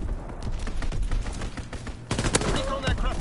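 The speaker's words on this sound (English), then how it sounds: "Enemy strafing run inbound." Gunfire from a strafing run by enemy aircraft in Call of Duty WW2, heard in a hardcore team deathmatch. Dense, rapid bursts crackle loudly for a few seconds, with game voice announcements mixed in.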